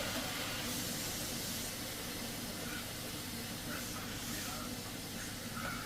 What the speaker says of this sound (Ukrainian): з утюга спущу трохи конденсат, бо може плюватись